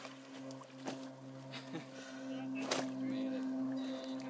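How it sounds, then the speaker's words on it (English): Splashing in shallow water as people wade across the Santa Ynez River, with several close sloshing splashes over a steady background hum. "Sorry, did I splash you?"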